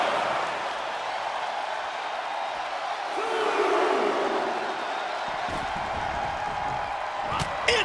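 Video game arena crowd at a WWE 2K24 Elimination Chamber wrestling match, a continuous roar of cheering beneath commentary, swelling midway and ending with a sharp slam-like hit.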